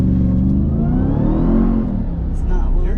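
A 2021 Ram TRX pickup's engine roars at full throttle on a launch, loud and close, the revs climbing and sweeping upward before easing slightly, with people talking over it inside the cab.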